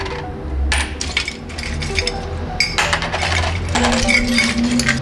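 Silver coins found while metal detecting clink and jingle inside a small box, a busy run of close metallic chinks and rattles that continues throughout with no voices.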